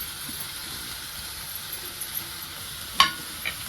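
Sprouted moth beans (matki) tipped into a hot pan for a dry Maharashtrian sabzi, giving a steady soft sizzle with light stirring clatter and one sharper clink near the end, no voices.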